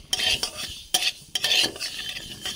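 White mustard seeds frying in oil for a mango oil pickle, stirred with a utensil in the pan: repeated close scraping strokes over a bright crackling sizzle.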